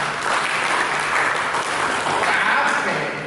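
A church congregation applauds during a sermon, sustained clapping from many people that rises and falls slightly, with voices faintly mixed in.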